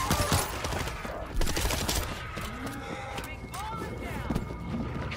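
Gunfire in the zombie shooter World War Z during a New York descent mission: dense, rapid volleys of shots and crackling bursts under frantic game action and shouting voices, loud and continuous.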